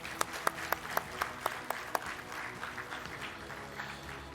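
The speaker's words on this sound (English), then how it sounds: "give a round of applause to all of your family and friends who have supported you" Faint applause at a training centre convocation for graduates' family and friends, opening with a few distinct sharp claps at a steady pace that spread into a soft, sustained ripple of clapping from a distant crowd.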